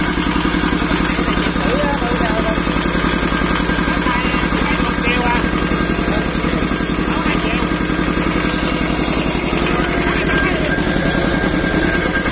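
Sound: old Yanmar walking tractor engine running

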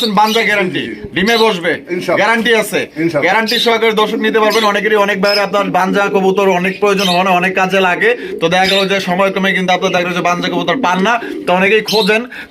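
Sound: pigeons cooing

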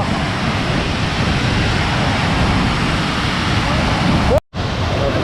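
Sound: water rushing from opened Veligallu dam gates

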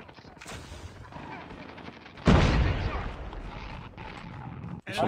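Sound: gunshots in a video game

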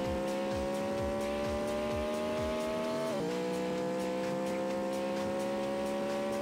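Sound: car racing at top speed in video game Traffic Racer

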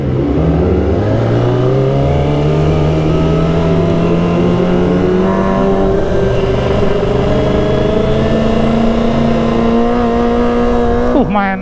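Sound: Kawasaki ZX25R motorcycle convoy engines revving

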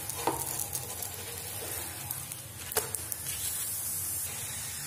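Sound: egg paratha frying on a pan

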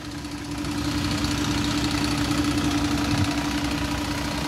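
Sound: Volvo B7R bus 7 litre engine idling

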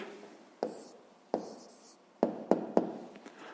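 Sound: pen writing an answer on paper

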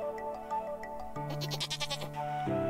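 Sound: goat bleating in Stardew Valley video game

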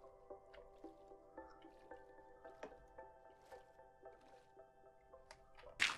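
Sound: water dripping in Minecraft, video game

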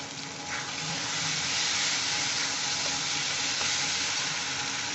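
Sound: ginger paste being stirred and frying in a pan

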